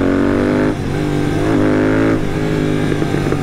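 A Royal Enfield GT 650 motorcycle with a BMC performance air filter and NGK spark plugs, revved hard close by: a loud, steady engine note swells in two quick throttle blips with no voices over it.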